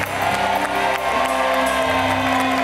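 A studio audience on the Indonesian game show Family 100 claps and cheers for both competing teams. The applause and whoops are steady and energetic, with studio music underneath.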